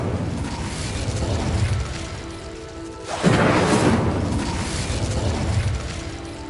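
Incendio fire spell cast in Hogwarts Legacy, a sudden whooshing burst of flame at mid-clip that rises over a steady game backdrop and then lingers as a broad roar.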